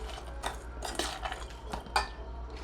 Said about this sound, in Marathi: आता थोडीशी शेव घालायची परत हलवून घ्यायचं